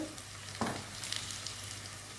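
Ginger garlic paste sizzles steadily in a hot pan, with a soft stir or scrape near the start and a continuous bright crackle running throughout, close and moderately quiet.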